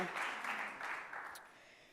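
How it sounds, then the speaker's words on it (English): Audience applause at an evening awards ceremony, a faint, distant, steady wash of many hands clapping that slowly fades out over about two seconds. "Let's give another round of applause for Cleve Jones"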